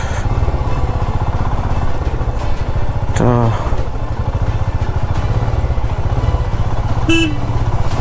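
A motorcycle rides a rough off-road track on the route from Pokhara to Beni in Nepal, its engine loud and steady throughout with a rumbling idle-like pulse, one short horn-like tone midway and another brief beep near the end.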